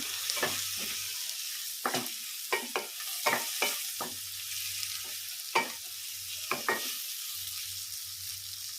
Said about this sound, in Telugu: దాంతో పసుపు అంతా కలిపేటట్టు మొత్తం కలుపుకోవాలి